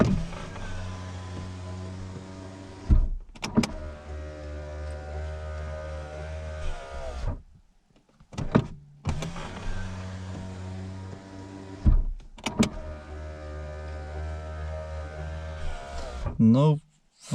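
The power window of a Toyota Corolla Ceres door lowers and raises in a series of long motor whines, with short clicks and pauses between runs, heard close up.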